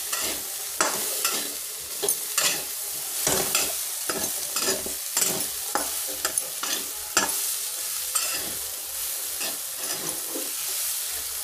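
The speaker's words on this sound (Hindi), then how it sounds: "सारे मसालों को मिला देंगे।" Ground spices being stirred in a hot pan, including roasted cumin powder, with a soft sizzle under repeated scraping strokes at an uneven rhythm, close and without talk.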